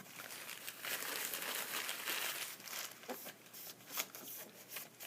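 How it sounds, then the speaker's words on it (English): A paper towel is crumpled and squeezed for cleaning a watercolor palette lid, making soft, continuous crinkling and rustling close by, faint and unaccompanied by speech. "I'm going to take my paper towel"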